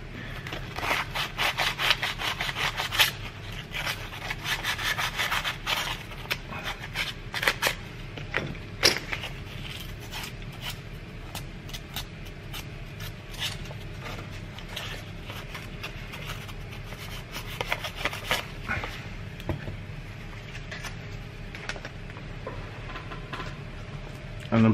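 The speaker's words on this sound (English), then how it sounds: "I use a very fine sandpaper." Fine sandpaper rubbing on a Stihl chainsaw crankcase, close, scratchy back-and-forth strokes repeating in an irregular rhythm with occasional light knocks.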